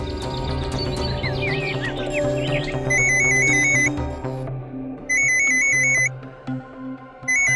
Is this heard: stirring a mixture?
no